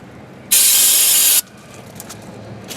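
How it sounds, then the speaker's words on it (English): A single sustained burst of aerosol cleaner spray hisses loudly for about a second while cleaning front brakes on a 2013 Mazda CX-5 AWD, then cuts off, leaving quiet room tone. "clean everything up really good with some spray."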